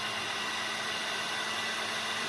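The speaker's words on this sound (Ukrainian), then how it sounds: "включаємо фен, хай прогрівається" A heat gun blows steadily with an even, hissing airflow and a faint whine, constant throughout with no other sounds.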